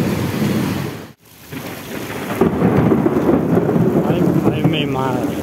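Steady heavy rain with lightning and a low rumbling roll of thunder in a powerful storm, broad and continuous, briefly dropping away before the downpour swells again.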